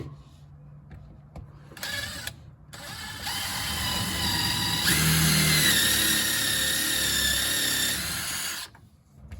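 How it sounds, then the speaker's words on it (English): A power drill whirs steadily for several seconds after a few short bursts, drilling a pilot hole for a screw in the top of an MG TD, with small clicks and handling noises before it stops. "lift this up as high as I can and then hold it and drill a hole"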